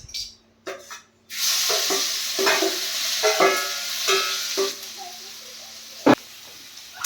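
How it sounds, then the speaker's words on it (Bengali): A few quiet knocks, then a loud sizzle bursts in as chili and onion hit hot oil, followed by steady frying, stirring scrapes and a sharp clank. "কড়াই দিয়ে দিচ্ছি কাঁচা লঙ্কা আর পেঁয়াজ।"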